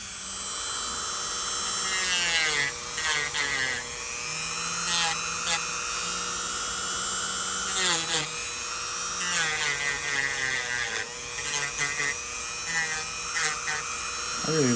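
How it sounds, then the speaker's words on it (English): A Dremel sander grinds down a thick fungal toenail, its high whine rising and falling in pitch as pressure on the nail changes, close and continuous throughout. "I really like this Dremel. This sander works really well."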